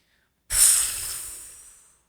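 A person forcefully exhales in one long, breathy whoosh, imitating a whale blowing at the surface, fading out over about a second and a half.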